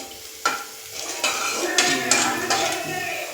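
Okra sautéing in a pan for sambar, with repeated sharp scraping stirs over a steady soft sizzle, close and fairly loud, with no talking.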